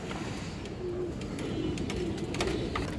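Pigeon cooing: a few soft, low coos repeat at close range over a noisy background with light clicks and rustles, quiet and without speech.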